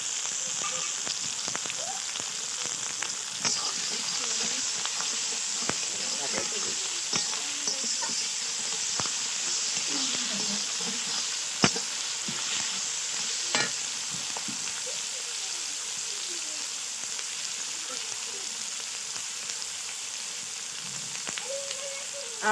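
Garlic paste, chopped tomato and green chilli frying in a pan give a steady, moderate sizzle throughout, with soft scattered crackles and occasional utensil clicks and no speech.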